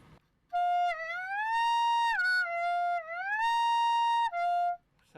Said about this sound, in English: I slowly peel my fingers off the instrument to create a sliding effect